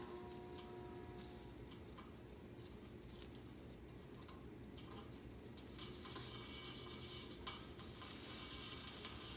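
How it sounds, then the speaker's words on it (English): Steady crackling sizzle of solder flux under heat while soldering sheet metal, continuous and close, with faint scraping and stirring textures throughout. "Hear the flux sizzling."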